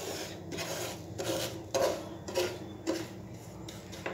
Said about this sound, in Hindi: तो अब हम इसको थोड़ा सा मिक्स करके बाकी जो हमारी चीनी मेल्ट नहीं हुई है उसको मिक्स करना शुरू करेंगे।